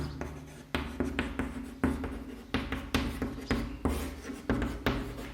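Chalk or marker writing on a board during a geometry maths lesson on similar triangles, a run of short scratchy strokes and taps in an uneven rhythm, close and clear with no voices.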